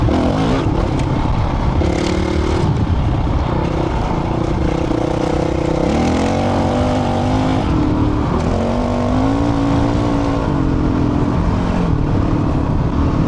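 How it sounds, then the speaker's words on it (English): Loud, continuous wind buffeting from a strong headwind while riding a motorcycle, mixed with a steady droning engine tone that shifts in pitch, filling the whole stretch without any speech. "Like this is a pretty strong headwind right there."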